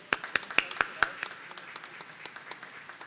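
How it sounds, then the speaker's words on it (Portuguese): Scattered applause at a solemn medal ceremony honoring a man, a few loud, sharp close claps followed by lighter, thinning clapping from a small crowd. "Uma salva de palmas para o Jorge Tredler."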